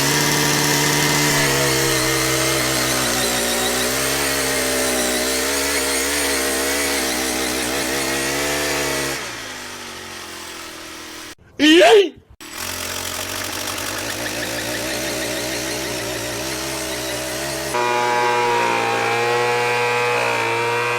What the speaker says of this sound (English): take this edger, and I got it set down as deep as it'll go, and I'm going to make a trench all the way around the yard